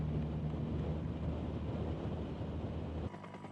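Steady, loud rotor and engine rumble from a helicopter filming a 1995 Clásica San Sebastián professional road cycling race on a descent, continuous throughout with wind-like noise, cutting off sharply near the end.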